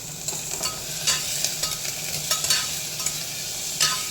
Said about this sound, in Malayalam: അതിന് ശേഷം നമുക്ക് കുറച്ച് പെരിഞ്ചീരകവും കൂടെ ഇട്ട് ഉള്ളി നന്നായിട്ട് വഴറ്റിയെടുക്കാം.